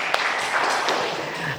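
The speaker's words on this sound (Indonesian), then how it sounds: "terima kasih, tepuk tangan" A classroom of students claps briefly during a lesson, a short burst of moderately loud, close applause with a few sharper individual claps near the start.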